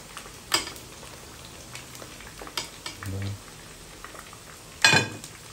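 Pork frying in hot oil in a pan, with steady low sizzling broken by a few sharp, loud pops and spits spaced seconds apart, plus a brief deeper bubbling burst midway.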